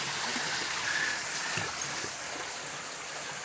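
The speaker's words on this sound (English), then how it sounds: "Waterfall number 4." Falling water roars in a broad, steady wash at one of the waterfalls on Leatherwood Creek, partway up a mountain; the rush is close and continuous, with occasional splashy surges and no voices.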